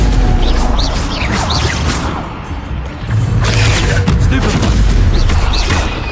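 Spell blasts in the video game Hogwarts Legacy, a dense barrage of booming magical impacts and crackling bursts that runs almost continuously, dipping briefly midway before surging back loud.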